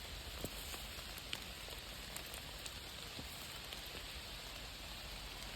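Steady rain falls in an autumn forest, a dense even hiss with occasional heavier drops tapping nearby leaves, continuous and fairly soft with no voices.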